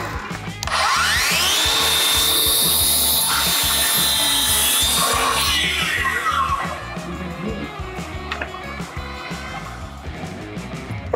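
A Makita cordless power saw whines up and bites through wood, a loud continuous cutting roar with the pitch shifting as the blade works, then settling to a rougher rasp.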